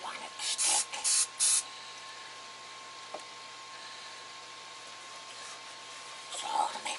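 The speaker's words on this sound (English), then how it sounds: "And I want to spray this really good because I don't want it to stick." Non-stick cooking spray hisses onto a bread pan in three short close bursts, then a quieter pause with faint background hum and a small clink, ending with a softer final spray.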